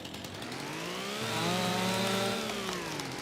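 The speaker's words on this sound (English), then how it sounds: "So let's get this chainsaw back out." Chainsaw revving as it cuts wood in a farming game, a steady buzzing engine whine that rises in pitch and intensity mid-cut then eases off, close and alone.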